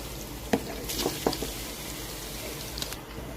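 Bamboo shoots drop into pork already browning with pepper and salt in a pan, giving a few soft thumps and a brief sizzle over a steady low frying hiss.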